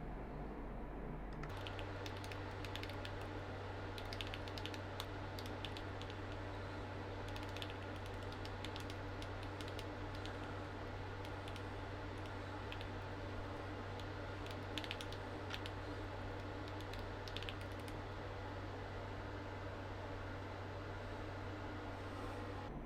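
Steady clicking of keys on a computer keyboard as code is typed for a card game program, irregular bursts of taps over a constant low electrical hum, fairly quiet and without any voices.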